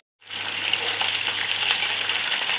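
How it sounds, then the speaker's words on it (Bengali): Bitter gourd fries with curry leaves in hot oil, starting abruptly with a dense, steady close-up sizzle and a few faint crackles and stirring taps, with no voices. "আর একটু ভাজবো তাহলেই হয়ে যাবে।"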